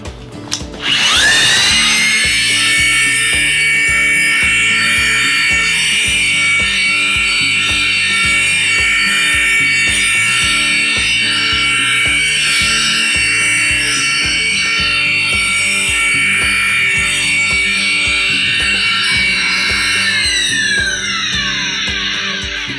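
A Makita PW5001C wet polisher works the edge of a stone slab, a loud, steady high-pitched whine after a short spin-up, running continuously before winding down at the end, with no talking.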